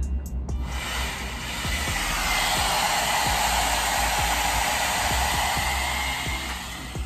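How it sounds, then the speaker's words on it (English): An Amika blow dryer brush runs on low heat, high speed while drying hair, a loud, steady airy roar that starts abruptly and holds for several seconds, with no talk. "I'm gonna be using the low heat, high speed to take all this excess moisture out of my hair"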